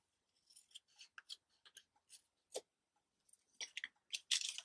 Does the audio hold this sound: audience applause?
no